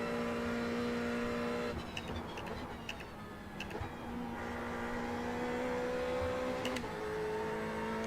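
Race car engine in a sim-racing game at Bathurst, a steady high-pitched drone with brief dips and stutters as it hits the rev limiter, continuous and close, with no talk.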